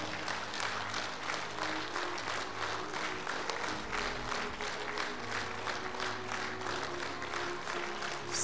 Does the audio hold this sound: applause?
yes